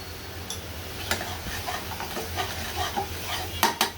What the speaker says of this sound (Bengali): এইভাবে মশলাটা আমি সুন্দর মতো কষিয়ে নিচ্ছি।